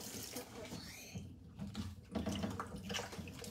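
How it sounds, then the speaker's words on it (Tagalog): Water runs from a kitchen tap in a Filipino home while dishes are washed, a steady broadband rush under frequent speech from adults and a child. "Hinaan mo ang tubig o ganun."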